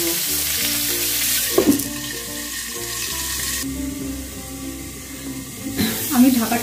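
Cauliflower frying in a pan that is covered, for a prawn and potato curry, making a steady muted sizzle with a few lid or utensil knocks and clatter nearby, amid some background tones.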